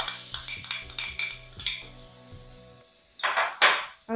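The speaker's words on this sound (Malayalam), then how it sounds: "കുറച്ച് കറിവേപ്പില, എന്നിട്ട് നന്നായിട്ടൊന്ന് വഴറ്റി കൊടുക്കാം" A spoon stirs spice paste and curry leaves in a hot pan for a chena stem and chickpea thoran, with rhythmic close clinks and scrapes against the metal, then a few louder sizzling bursts toward the end.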